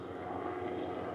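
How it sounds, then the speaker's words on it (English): A helicopter flying overhead over a marsh: a steady, droning engine rumble with a rhythmic rotor-like throb holds constant throughout, with no talking. "Another helicopter."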